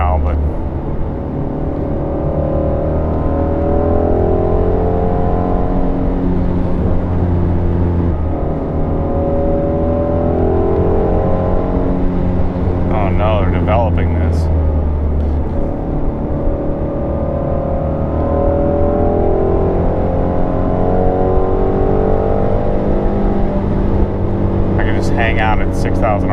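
Ford Shelby GT350 driving on a backroad, its engine droning and revving loudly and steadily throughout, with someone talking over it.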